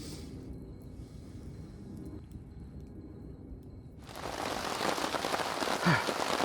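Steady rain falls outdoors at night, a soft hiss at first that swells after a few seconds into a dense, close downpour drumming on surfaces, with no voices.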